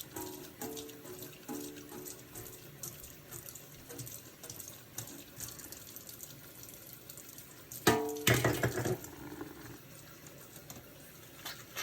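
Water runs from a tap as dish towels are rinsed in a sink, a faint continuous splashing with small bursts of handling and one louder swish partway through, no talk.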